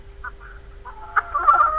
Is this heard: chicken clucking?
yes